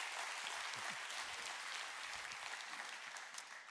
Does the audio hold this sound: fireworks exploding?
no